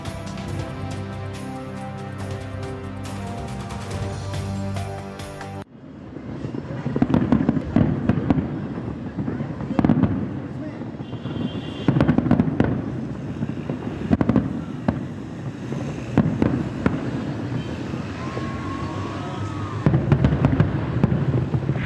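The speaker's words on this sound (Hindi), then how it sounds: "जश्न आज़ादी की मुनासबत से आतिशबाजी का मुजाहरा किया गया" Independence Day fireworks in Peshawar pop and crackle repeatedly over a steady background roar, with scattered bursts and booms spread across the whole stretch.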